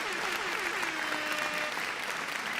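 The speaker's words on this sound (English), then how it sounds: "Give a round of applause, everyone." Round of applause for a musician at a broadcast event, dense crowd clapping throughout with a faint whistle-like tone sliding under it.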